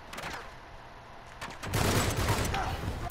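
Gunfire in a shooter video game, a quick run of shots followed by a louder, denser burst of firing through the second half, with a voice faintly mixed in.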